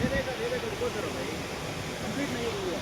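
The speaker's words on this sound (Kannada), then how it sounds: "ವಾಟರ್ ಫಾಲ್ಸ್ ಅಂತೂ ಸೂಪರ್ ಆಗೈತೆ." A broad, steady roar of falling water from the waterfall near the Wei Sawdong Falls view point fills the scene, constant and fairly close, with a voice talking faintly underneath.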